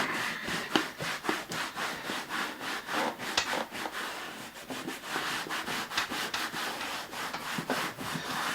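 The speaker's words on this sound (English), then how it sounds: "Let's give this a wipe down and just see how much whiter it's become." An old wooden surface is wiped down by hand to lift grime, giving a fast, rhythmic series of close rubbing strokes, steady and moderately loud with no talking.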